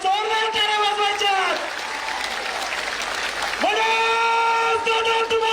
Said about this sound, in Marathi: आपण जोरदार टाळ्या वाजवायच्या